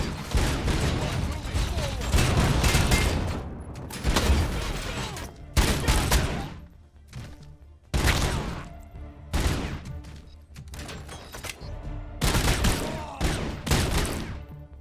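Fully automatic gunfire rattles in long, loud bursts in the RoboCop Rogue City video game, broken by short pauses, with talk in the background.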